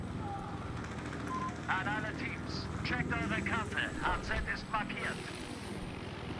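Helicopter in the video game Battlefield 4, a steady rotor and engine drone under battlefield noise and gunfire, with players talking over it.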